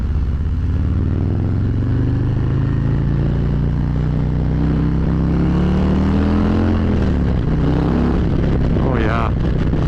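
A 2023 Harley-Davidson Road King on a test ride, its big V-twin rumbling loud and close. The engine pitch rises steadily, then drops with a downshift into first and climbs again.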